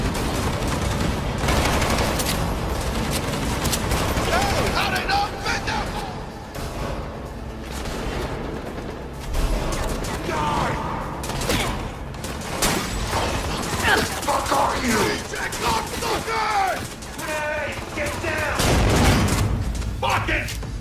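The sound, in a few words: gunfire with ricocheting bullets in the video game Cyberpunk 2077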